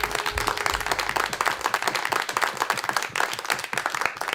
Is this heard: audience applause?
yes